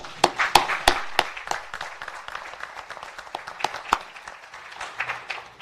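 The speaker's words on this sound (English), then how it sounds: "a round of applause for our speakers and for yourselves" A small conference audience claps for the speakers at the close of a finance session, sparse, uneven individual claps rather than a full ovation, fairly close and tapering over a few seconds.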